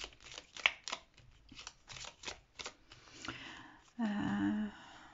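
Tarot cards are shuffled close by in a run of quick riffling slaps and flicks, followed by a brief louder sliding rasp as cards are drawn, with a faint voice underneath.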